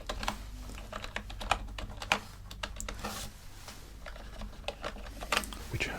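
Quiet, close typing on a computer keyboard, a rapid irregular patter of key clicks with occasional louder strokes, with soft speech in the background.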